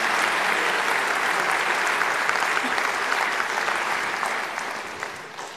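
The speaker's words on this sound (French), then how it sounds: "On peut vous applaudir très fort" Sustained applause from a large crowd at a beauty pageant election, loud and steady throughout, fading slightly toward the end.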